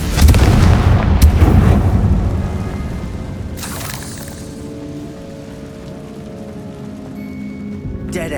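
A Confringo blasting spell goes off in the Hogwarts Legacy video game, a loud booming explosion with crackling debris that fades into a long rumbling tail.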